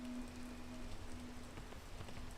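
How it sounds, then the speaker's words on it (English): Steady rain falls in a video game, a soft continuous patter and hiss with a faint low tone running underneath, and no voices. "Just gotta wait for the rain to stop."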